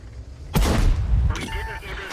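A single heavy boom from a tank gun in World of Tanks, a deep close blast that rolls off over about a second, followed by fainter mechanical game sounds.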